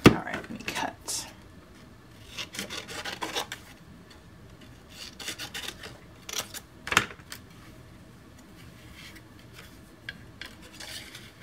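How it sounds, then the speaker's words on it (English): Scissors cutting card stock for a handmade Christmas card, with several short bursts of snipping and rubbing close by, separated by quieter stretches, and no talk. "All right, let me cut."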